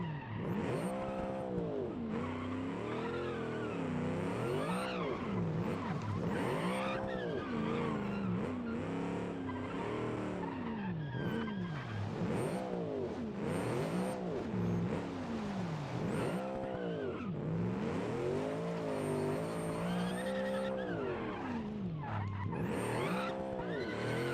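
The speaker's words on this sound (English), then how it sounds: "Constantly spinning the tires." Car tires spinning and squealing in BeamNG, a custom-built KP23 intro car, with a continuous engine drone and repeated rising-and-falling screeching wails as the wheels break loose, loud and steady with no talk.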